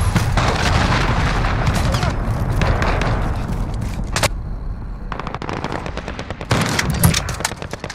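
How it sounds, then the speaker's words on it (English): Heavy gunfire and explosions from a cruise missile strike in Call of Duty: Modern Warfare, with dense rapid shooting and a loud boom that fades out, then bursts of fire and blasts return. "Enemy cruise missile incoming!"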